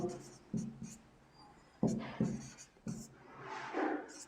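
Marker or chalk strokes on a board as mountain range names are written, a series of short scratchy swipes and taps in uneven rhythm, close and fairly clear, with a voice faintly present.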